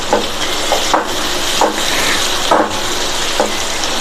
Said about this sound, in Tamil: தக்காளியையும் ஜஸ்ட் வதக்கி விட்டால் போதும்